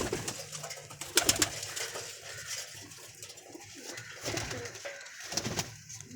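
Paired pigeons kept for sale coo softly in low, rounded calls, with a few sharp clinks and knocks nearby over a quiet background.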